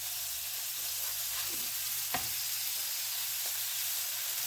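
Scallops sear in a hot pan, giving off an even, close crackling sizzle with a brief louder scrape or flip partway through, no voices.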